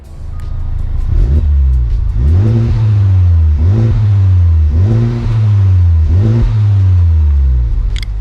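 A car at an auction sits idling behind the seller's vehicle, then the engine is revved repeatedly, about five rising and falling throttle blips in a steady rhythm, close and loud.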